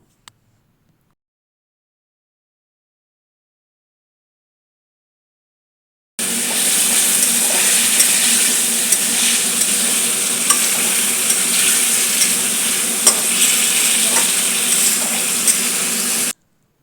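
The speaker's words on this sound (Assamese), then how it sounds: "এতিয়া বইল পাচলিখিনি তাতে দি অলপ ভালকৈ ভাজি ল'ব।" After about six seconds of silence, boiled vegetables for an Assamese fish curry hit a hot pan and fry with a dense, steady sizzle, punctuated by occasional light stirring clicks.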